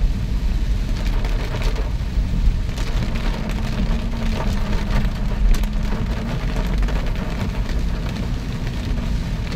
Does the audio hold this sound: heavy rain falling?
yes